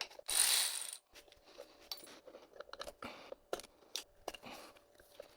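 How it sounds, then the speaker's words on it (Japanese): Bolts being removed from the stator cover of a high-mileage Yamaha Serow 250 engine during a full overhaul: a loud burst of ratcheting at the start, then a run of short, close metallic clicks and taps. "ボルトをすべて外してステーターカバーを取り外します。"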